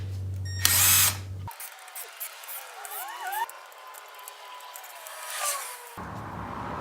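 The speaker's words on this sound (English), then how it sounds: "I am going to use my impact driver just to speed it along, but I don't want to tighten them down." An impact driver on the clutch basket bolts of a Ducati 1198SP with an EVR slipper clutch basket: one short, loud whirring burst of about a second, followed by faint handling noises in a quiet workshop.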